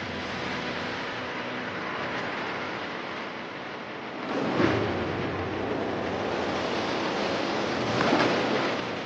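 Ocean waves on a steep-sloped shore, a steady broad roar of surf with two heavier breaks swelling about four seconds apart, no voices.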